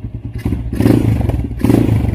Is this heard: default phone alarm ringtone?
no